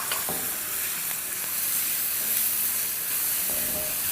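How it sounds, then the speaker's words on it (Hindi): Chopped onions and tomatoes cook in a pan for dal, giving a steady close sizzle and hiss of frying with faint stirring scrapes and no talking. "प्याज़ों को और टमाटर को जब तक पकाएंगे जब तक कि मॉइस्चर इसमें से एवेपोरेट ना हो जाए"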